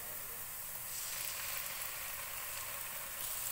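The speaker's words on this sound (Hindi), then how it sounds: "प्याज को हम हल्का सा फ्राई करेंगे। इसमें हम ज़ीरा डालेंगे।" Onions with garlic-ginger paste fry in a pan for a Pakistani dal, giving a steady, close sizzling hiss that swells slightly partway through and holds on without talk.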